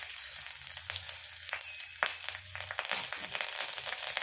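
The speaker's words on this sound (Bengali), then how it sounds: "দুটো কাঁচা লঙ্কা ফোড়ন দেবো" Green chillies and cumin seeds are tempered in hot oil with a quiet, steady sizzle, broken by a few sharp crackles and pops.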